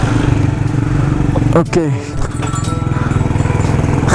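A Honda GL motorcycle fitted with a PWK carburetor rumbles loudly close by on a night ride, its engine revving up and settling with a throaty pulse while someone talks over it.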